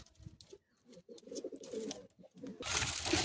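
Madrasi high-flying pigeons from Kolkata give low, soft cooing calls close by, repeating in short bursts amid rustling and handling noise, then a louder burst of broadband rustle at the end.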